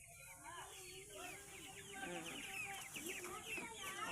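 Chickens cluck and chatter repeatedly at close range in a vegetable garden in Cavinti, Laguna, with a quieter voice talking faintly underneath.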